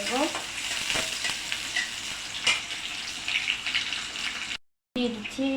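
Onions and green chilies frying in hot oil and being stirred, a steady close sizzle with spatula scrapes, briefly cut to silence near the end before the frying resumes.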